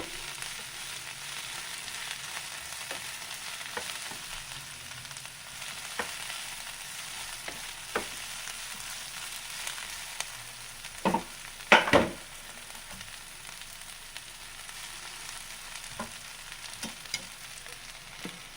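Coriander leaves being fried in a pan for a spicy thokku, a soft steady sizzle with occasional scraping stir sounds and a couple of louder clatters midway, heard close with no talk.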